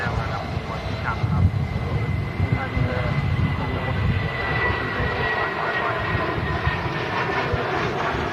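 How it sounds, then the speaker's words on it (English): A British Airways shuttle airliner departs Manchester bound for London Heathrow, its engines giving a steady broad roar at moderate distance while people talk over it. "British Airways shuttle service getting back out of Manchester, heading back down to London Heathrow."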